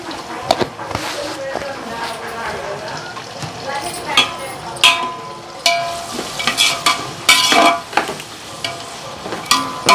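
Onions fry in a pan with salt as a cook stirs, with steady sizzling broken by scraping clatters of the spoon against the pan, close and fairly loud, while someone talks over it.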